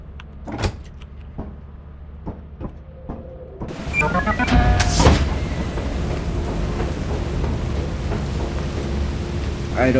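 Video game weather: a few scattered thunder cracks and rumbles give way to a steady, loud hiss of rainfall that continues without a break.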